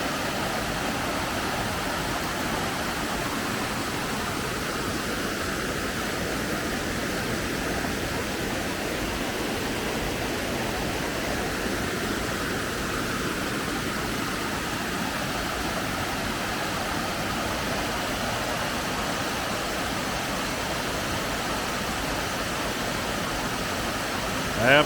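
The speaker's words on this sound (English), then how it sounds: "This is a very beautiful waterfall," Sid's Falls waterfall on a hiking trail, a continuous broadband rush of falling water, steady and fairly loud for the whole stretch with no clear breaks.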